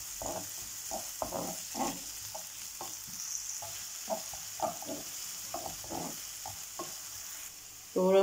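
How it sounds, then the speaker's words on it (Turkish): Onions sauté in a pan, sizzling and frying with intermittent stirring scrapes, steady and close, without any talking. "Soğanlarımızı 1-2 dakika soteleyelim."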